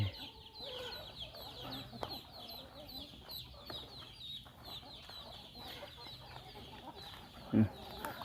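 A flock of chickens scratching for food outdoors near a rice field clucks intermittently at a moderate distance, with a sharper close cluck near the end over steady background ambience.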